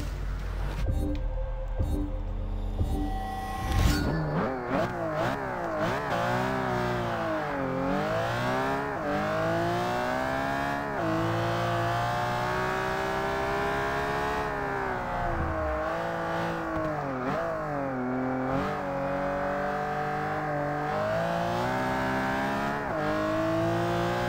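An Enzo Ferrari engine on hot laps in Forza 6 screams up through repeated high-revving pulls, with sweeping pitch climbs and drops at each gear change and corner, loud and continuous, no voices.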